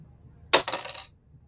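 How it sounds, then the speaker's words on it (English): A metal paper clip drops onto a table beside a Lunasat, a single sharp close tinkle with a few quick bouncing rattles before falling quiet. "drop the paper clip next to it"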